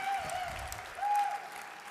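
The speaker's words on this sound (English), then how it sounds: "We should clap for Office of Immigrant Advancement." Audience applause at the 12th Annual We Are Boston Gala, honoring the Office of Immigrant Advancement: a fairly faint, steady wash of clapping across the room, swelling briefly midway, with a thin steady tone ringing through it.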